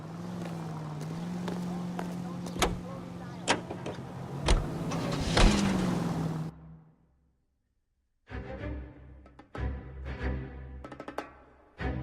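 A car drives along in the video game L.A. Noire with a steady engine hum and voices over it. The sound cuts out into a short silence, then the engine resumes.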